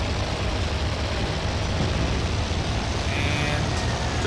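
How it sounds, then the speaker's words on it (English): A plane's engine in Toy Soldiers roars as a loud, steady, close drone that holds unbroken for the whole few seconds. "This plane is very loud."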